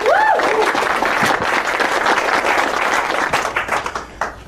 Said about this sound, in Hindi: रेमी के लिए तालियां बजाओ